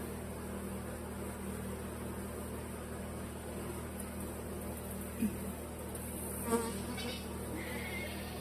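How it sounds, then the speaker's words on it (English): Honey bees buzz around a hive corner outdoors, a steady faint droning hum with soft background noise and a couple of brief louder knocks near the end. "There are a lot of little bees right here on this corner."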